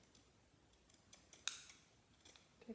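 Scissors make a diagonal cut across fabric quilt strips, heard as a few faint close snips against a quiet background, one crisp cut standing out.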